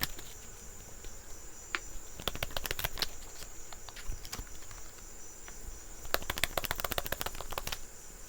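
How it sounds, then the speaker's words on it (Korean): Tarot cards being shuffled in quick riffled bursts, fairly faint, with a steady insect-like high tone in the background. "그러면 조금 더 메시지 카드를 뽑아보도록 할게요"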